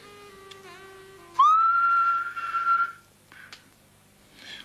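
A person whistles in a film scene: one long, clear, sustained note that rises slightly and holds for over a second, then trails off, followed by brief faint sounds.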